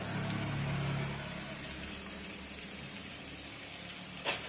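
Chopped onions going into hot oil in a pan for a lentil fritter curry, a low steady sizzle and hiss that is strongest at the start, followed by a sharp clink near the end.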